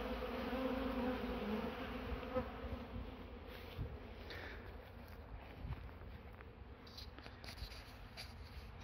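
Honeybees robbing another hive in a bee garden in August fill the air with a dense, continuous buzz of many wings. It is close and steady, with no voices.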